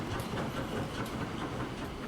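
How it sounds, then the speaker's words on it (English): Cargo train running in Transport Fever 2, a goods shuttle rolling along the tracks: a low, steady rumble with soft rhythmic clicking, faint and continuous, heard alone. "Is this our new cargo train? Yes, this is our new shuttle for the actual goods."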